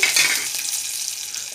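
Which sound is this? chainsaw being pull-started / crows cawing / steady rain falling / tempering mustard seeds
tempering mustard seeds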